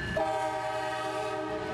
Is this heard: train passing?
yes